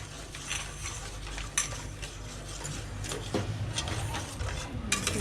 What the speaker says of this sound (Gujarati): હવે આપણે ખાંડ નાખી દઈશું અને હવે આપણે સતત હલાવશું